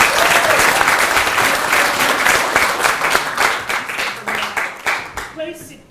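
Audience applause at a local council meeting on a shire local law, dense clapping filling the room and thinning into scattered claps toward the end, with some voices mixed in.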